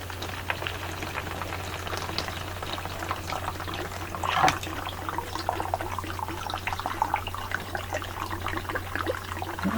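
Water pours steadily into a new canteen rated at 16.9 ounces, a continuous close trickling splash over a low steady hum, with no talking.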